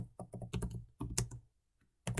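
Bursts of typing on a computer keyboard, quick clustered keystrokes close up with a short pause before a final flurry, no voices.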